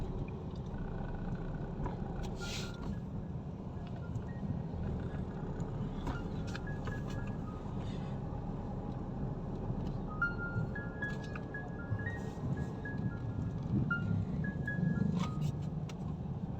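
Road traffic in Quezon City rumbles steadily, with car engines droning and idling nearby, occasional horn-like tones and passing vehicles over a constant low hum.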